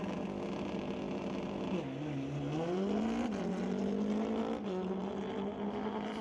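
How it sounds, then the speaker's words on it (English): A 1,428cc Kawasaki drag racing motorcycle revs hard at a drag strip launch, its engine running rough with pitch dipping and climbing, loud and continuous with no talk. "bike doesn't appear to be running all that smooth"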